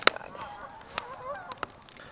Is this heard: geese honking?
yes